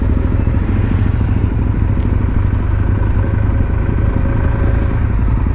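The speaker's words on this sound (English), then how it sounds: "The good old SV1000." A Suzuki SV1000 motorcycle rides along with a loud, steady engine drone and rumble filling the whole stretch, close and continuous without pause.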